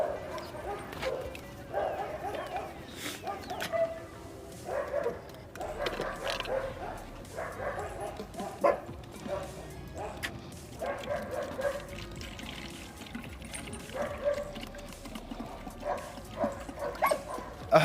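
A dog barks and whimpers being sprayed with apple cider vinegar, short repeated yips and whines scattered throughout at moderate volume, mixed with faint splashing and background sounds.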